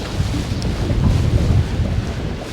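Wind buffets a microphone outdoors during fly casting, a steady low rumbling roar that holds for the whole stretch with no talking.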